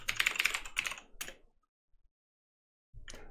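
Fast typing on a computer keyboard while entering a terminal command in Ubuntu: a quick burst of close, crisp key clicks, then a pause, then a few more keystrokes.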